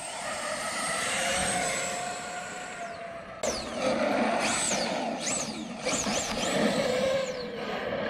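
An EDF jet-powered Kraton 8S RC car runs close by with a loud, continuous turbine-like whine that rises and falls in repeated sweeping revs, several sharp spool-ups toward the end.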